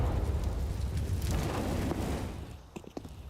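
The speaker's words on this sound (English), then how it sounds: "the CT is able to deploy an aggressive incendiary to hold them at bay for now" An incendiary grenade bursts into fire in a CS:GO match, giving a sustained roaring, crackling whoosh for about two seconds before fading into scattered in-game clicks and pops.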